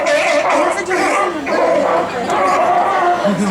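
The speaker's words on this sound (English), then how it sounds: "So you can hear they definitely make that distinct barking sound." Repeated barking calls from sea lions, fairly close and loud, mixed with human voices and crowd chatter throughout.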